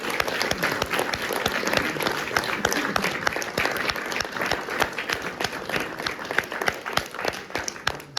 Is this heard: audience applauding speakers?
yes